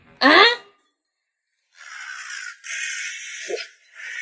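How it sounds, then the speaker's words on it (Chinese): Crows caw nearby: one loud harsh call, a pause, then a run of raspy caws from several birds, with a brief sound in between. "这乌鸦越来越多了。"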